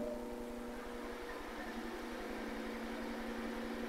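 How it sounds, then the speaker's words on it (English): A microwave oven runs on power from a dual fuel generator burning propane from a barbecue tank in a camper, giving a steady electrical hum with low engine drone beneath, continuous and close throughout. "Microwave's running."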